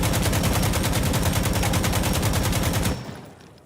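AKM rifle fitted with a foregrip and compensator firing a long full-auto burst in Insurgency Sandstorm, loud, evenly spaced rapid shots for about three seconds, then a short fading echo.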